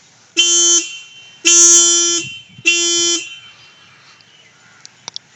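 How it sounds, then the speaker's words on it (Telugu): Three loud, blaring honks from the stock horn of a TVS Ronin 225 motorcycle, each lasting about a second, followed by a few faint clicks. "మీకు ఇందులో హార్న్ కూడా చాలా లౌడ్ ఉంటుంది అనమాట, ఒకసారి వినండి"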